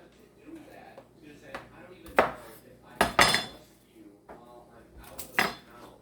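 A knife cuts little smokies sausage slices into slivers on a board, giving several sharp, separate taps and clinks of blade and utensils against a hard surface, with a voice faintly present between them.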